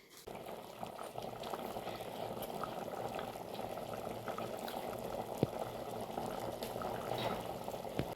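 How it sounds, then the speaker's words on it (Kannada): Steady bubbling of fenugreek greens cooking in a boiling pot, a continuous close simmering texture with small pops, no voices. "ಒಂದು ಐದು ನಿಮಿಷ ಕುದಿಸ್ರಿ"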